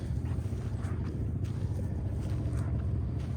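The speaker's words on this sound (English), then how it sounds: "It's a little breezy today." Breezy wind at a park used for model rocket launches rumbles continuously against the microphone, a loud low buffeting with no clear pauses.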